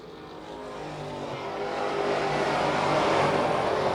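Super street race cars roar around a short track, engine noise building steadily from moderate to loud as the pack approaches, a dense continuous drone with no talk over it.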